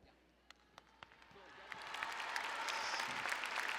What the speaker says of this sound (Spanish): Entonces déjenme aplaudirlos a mí de aquí para allá.